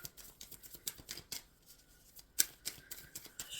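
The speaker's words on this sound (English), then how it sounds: "Shuffling for the Aries Collective." Tarot cards are shuffled in a quiet room, giving soft, irregular riffling and snapping taps that come close together in short clusters.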